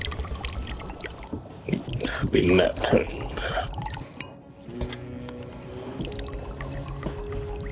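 A little water is poured into a glass of Jack Daniel's whiskey over ice aboard a sailboat, a short splashing trickle heard close among soft clinks, with someone talking before and after.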